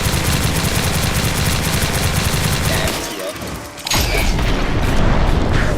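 M2 weapon fired at a boss in the Roblox game Beast Force, rapid machine-gun bursts rattling loud and close, a brief pause near the middle, then heavy booming fire resuming, with someone talking over it.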